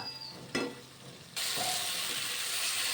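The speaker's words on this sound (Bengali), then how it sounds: "আমি উল্টে পাল্টে মাছ মশলার সাথে ভাজা ভাজা করে নিচ্ছি" Fish fries with spices in a pan for a vinegar fish dom: a utensil clatters, then a loud, steady sizzling hiss takes over and holds to the end.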